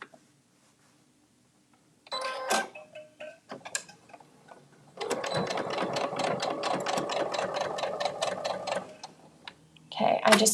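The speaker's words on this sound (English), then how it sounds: "And then making sure that we back tack over the zipper." Home sewing machine back tacking over a zipper, running with the thread nearly used up: brief stitching bursts and clicks, then a steady several-second run of rapid needle strokes close by, followed by a pause and another short burst.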